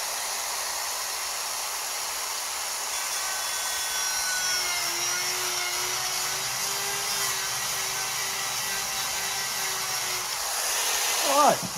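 Small burr on a rotary tool carving a wooden log, a steady high whirring grind that holds nearly continuously and swells briefly toward the end, with a faint tonal drone underneath.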